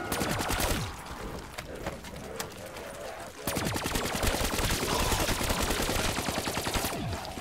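Rapid automatic gunfire from a Pack-a-Punched weapon in Black Ops 3 Zombies on the Ascension map, round 11, in loud sustained bursts with a short lull near the middle before firing resumes.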